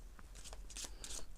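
A deck of playing cards being shuffled during a card magic demonstration, with two quick riffling bursts of crisp paper flutter, close and fairly quiet, with no talking.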